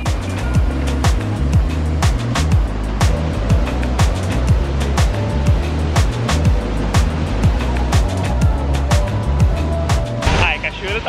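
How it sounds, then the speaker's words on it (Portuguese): A strong waterfall roars as a steady, dense rush of falling water that stays loud and unbroken throughout, with a faint low rhythmic pulse underneath. "cachoeira tá forte pra caramba"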